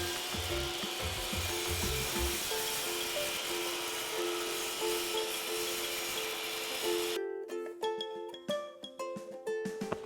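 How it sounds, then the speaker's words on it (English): A hand saw cuts the corner of a wooden porch column with continuous rasping strokes, close and steady, then the sawing stops and scattered knocks and handling noises follow. "then go get my saw"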